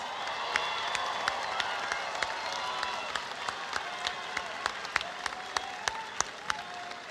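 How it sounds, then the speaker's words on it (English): Graduation ceremony audience applauding the students, a steady dense wash of clapping with sharper individual claps standing out throughout, fairly distant in a large hall. "Let's give them a round of applause."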